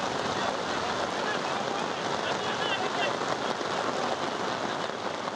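Heavy monsoon downpour at a crowded holiday tourist spot in Bangladesh near a hill waterfall, a dense steady hiss of rain filling the whole stretch at constant loudness.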